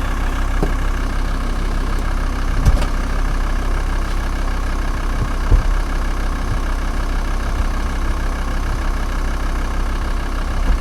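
A Volkswagen T4 bus with a 2.5 TDI diesel engine idles steadily in a loud, even low rumble, with a few faint knocks and clicks over the unchanging drone.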